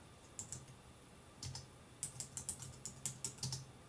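Keys clatter on a computer keyboard in short, quick bursts, close and crisp, with brief pauses between runs of typing.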